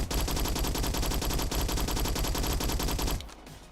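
A Skorpion submachine gun fitted with a muzzle brake fires a rapid, unbroken full-auto burst in the Roblox shooter Bad Business, loud and close, before cutting off abruptly into near silence.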